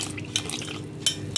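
Palm jaggery syrup poured into black urad dal porridge and stirred, giving soft liquid sloshing with a few light utensil clinks over a short stretch.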